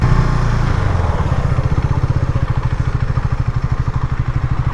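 A Royal Enfield Himalayan motorcycle engine thuds along with a steady, rapid pulsing beat, loud and close throughout, with no talk over it.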